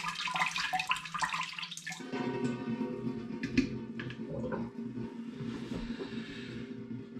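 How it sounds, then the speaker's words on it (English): Liquid draining from hops into a pan during home brewing of a raspberry ripple porter, a continuous trickle and splash that runs steadily, close and moderately loud, with a brief fuller pour at the start. "I need to let these hops drain for a little while."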